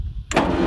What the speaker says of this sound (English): the starter that I said was absolutely garbage and needed replaced does turn the engine over